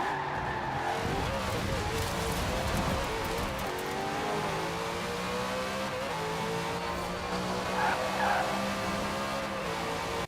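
A 900-horsepower car in the racing game Forza Horizon 4 accelerating hard, with a continuous loud engine roar rising through the gears and tire squeal throughout.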